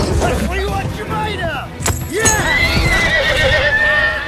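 A horse whinnies loudly close by, its call rising and falling, while hooves clip-clop steadily beneath it and people talk over the noise.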